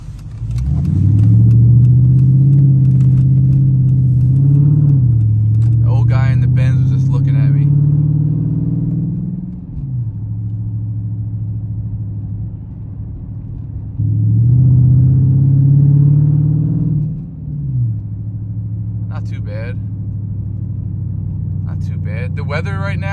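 Dodge Challenger SRT8 V8 engine while driving on back roads, a loud low rumbling drone that swells twice as the car accelerates and eases off to a steady cruise, with brief bursts of talk over it.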